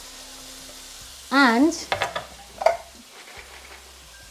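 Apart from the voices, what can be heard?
potato and cauliflower sizzling in a pan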